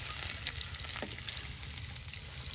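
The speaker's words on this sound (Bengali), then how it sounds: "এই যে এখন দেওয়া হচ্ছে পেঁয়াজ কুচি।" Chopped onions frying in oil in a pan for a traditional village-style deshi chicken curry, with a dense, continuous sizzle that stays close and steady, and no talking.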